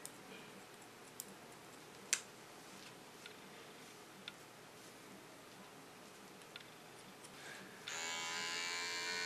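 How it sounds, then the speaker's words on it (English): An electric hair clipper buzzes to life near the end, cutting a blonde line into an undercut hairstyle. A few faint ticks and clicks come first in a quiet room, then the steady close buzz begins. "with my clipper I make a blonde line in it"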